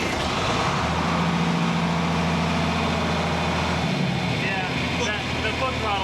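A 55-year-old tractor engine catches and settles into a steady, deep idle, its low throbbing rumble continuing close and loud while people talk nearby.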